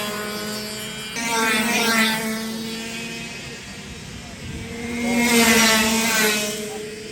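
Race cars at a night race at Collins Race surge past in two waves of rising, revving engine tone, loud and close, fading between passes, with crowd noise and voices underneath.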